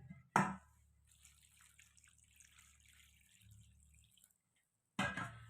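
Water is poured into a vessel to rinse leftover wheat residue while making kurdai, with a brief splash at the start and another at the end and a faint trickle in the quiet between.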